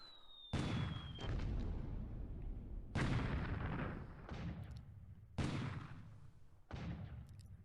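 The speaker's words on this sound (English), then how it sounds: "A 9-inch gun just hit that guy." A 9-inch naval gun fires a shore bombardment in War in the Pacific, with four heavy booming shots spaced a couple of seconds apart, each with a sharp crack and a long rumbling tail.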